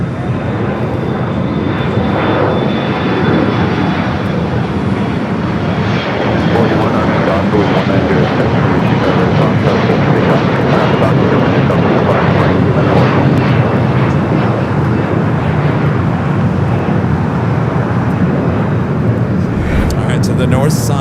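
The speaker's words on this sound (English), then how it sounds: "Delta flight 538 coming up from Tampa, Florida" An Airbus A321 jet airliner at Los Angeles International Airport roars loud and steady for about twenty seconds, a continuous broadband engine rumble with a voice speaking over it.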